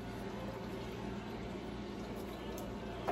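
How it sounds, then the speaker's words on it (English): Canned corn with its juice is poured into a crock pot, giving a steady wet slosh and trickle that stays even throughout, ending with a small clink. "So then I'm gonna put a can of corn with the juice in it."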